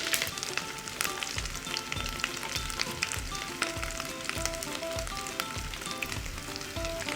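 Ginger and chopped onion fry briskly in hot oil in a pan for dhaba-style daal chana, a dense continuous sizzle with crackling pops and occasional stirring clatter, close and steady, with no talking.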